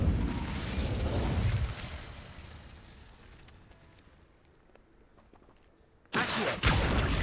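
An Incendio fire spell cast in Hogwarts Legacy: a loud whooshing burst that fades away slowly over several seconds, then a second sharp burst flares up near the end.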